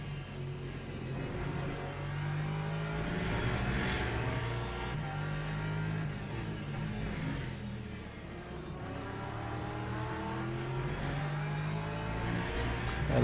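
A Porsche hypercar engine in the Le Mans Ultimate sim racing game at COTA, a steady droning roar with rising and falling revs through gear changes, loud and continuous with no talking.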